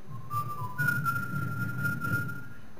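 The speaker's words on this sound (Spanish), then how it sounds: "estamos silbando" A person whistles a church praise song alone, a clear, sustained melodic tone with a few held notes and pitch shifts, close and fairly loud with faint background murmur.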